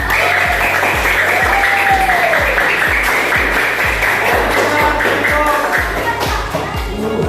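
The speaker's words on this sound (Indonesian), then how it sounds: "Ya, kasih tepuk tangan." A classroom of grade seven pupils claps in a steady, loud patter, with a regular low thumping and a rising tonal whine running underneath.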